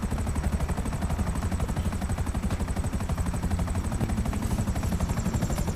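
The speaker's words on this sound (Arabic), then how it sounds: "بص هطير بيها الطيارة دلوقتي. حاجة جمدان، فيها رشاش آلي" Rapid machine gun fire from an aircraft in GTA V, a dense, steady stream of shots rattling on without pause over a constant engine drone.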